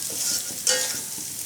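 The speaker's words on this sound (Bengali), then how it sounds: "1/2 চামচের মতো দিচ্ছি হলুদ। খুব ভালো করে ভেজে নেব।" Turmeric fries in hot oil in a pan for a lentil dish, a bright close sizzle with a sharp flare midway and light stirring, no talking.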